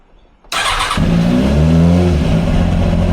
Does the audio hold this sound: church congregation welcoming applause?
no